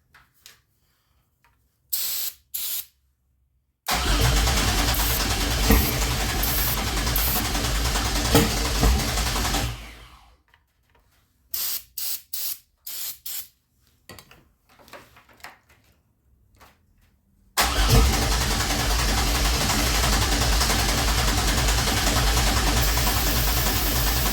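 A 2004 Pontiac Grand Am with a supercharged 3800 V6 and five-speed swap on its first start attempt: loud sustained bursts of cranking and engine roar, separated by quiet gaps and short clicks.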